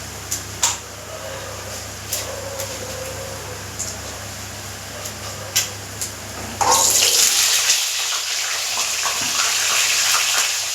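Water from a kitchen tap gushing into a sink while washing up during home cooking: faint clinks and knocks at first, then a steady, loud hiss of flowing water that carries on to the end.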